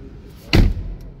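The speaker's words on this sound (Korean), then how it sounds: "그래서 실제 문을 열고 닫았을 때도" Hyundai Grandeur car door shutting with a single solid, low thud at close range, a faint rustle before it and a short quiet tail after.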